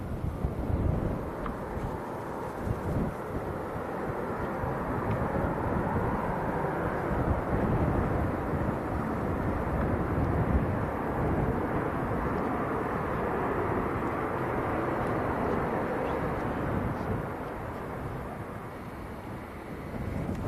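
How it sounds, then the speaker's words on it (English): An airliner touching down at Manchester Airport, a Ryanair jet, heard as a steady, loud low roar of engines and wind rumble that holds for the whole span and eases slightly near the end. "There's a Ryanair just touching down in his way."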